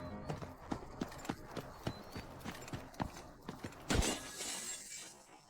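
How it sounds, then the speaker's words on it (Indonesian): Footsteps clack at a steady pace in a game scene, ending in a sharp crash followed by a lingering noisy wash. "Dengar langkah kaki di kegelapan"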